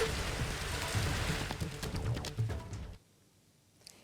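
Unseasonal summer rain in Washim district, Maharashtra, a dense steady patter on surfaces that cuts off abruptly partway through, leaving near silence.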